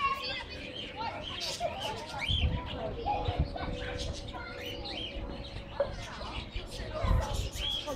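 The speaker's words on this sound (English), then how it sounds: "My birds." Pigeons and other birds coo and chirp outdoors beside a pub, scattered calls over a busy ambient bed of children playing and people chatting nearby.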